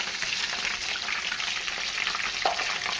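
Chicken pieces for asado sizzle loudly and steadily in a hot pan as they are turned over, with a brief soft knock near the end.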